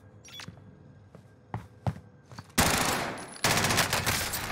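M4 rifle fire in the video game Warzone: several sharp single shots, then two dense, loud bursts of rapid automatic fire close up.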